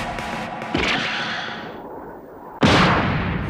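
Heavy gunfire and explosive blasts in an anime fight, with a loud burst that fades over about two seconds before a second sharp, loud blast hits near the end.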